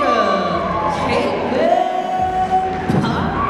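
A crowd at a boxing tournament cheers and whoops after a split-decision verdict, a sustained roar of voices with an announcer's amplified talk over it.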